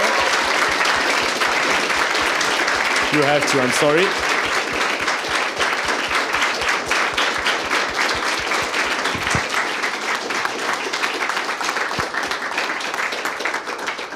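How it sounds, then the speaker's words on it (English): An audience at a startup sprint demo day bursts into sustained, dense applause that gradually thins out, with a person speaking briefly over the clapping. "Kim, please explode in applause for her."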